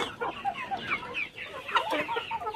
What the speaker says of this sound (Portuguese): Tem uns frangos bem grandes aí